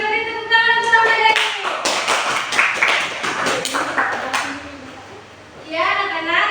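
Children in a classroom break into a burst of applause lasting a few seconds, with sharp hand claps and some cheering voices, and a teacher's voice is heard before and after.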